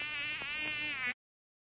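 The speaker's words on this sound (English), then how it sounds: "Mosquito." A mosquito buzzes in a steady, whining drone that stays close and constant for about a second before cutting off abruptly, with no other sounds.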